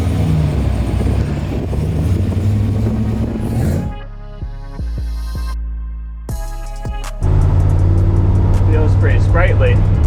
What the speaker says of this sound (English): 500 horsepower supercharged V8, my friend.